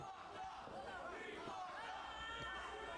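A wrestling event crowd roars in a continuous, dense wash of cheering and shouting, with commentators talking over the noise throughout.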